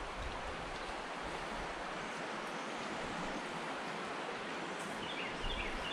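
A constant rushing roar of falling water from a waterfall near Waldo Covered Bridge in Alabama, broadband and unbroken, holding steady throughout with no voices.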